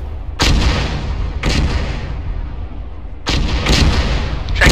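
Heavy indirect-fire artillery impacts booming in a war game: four loud, deep blasts in pairs, each rumbling out into a lingering roar.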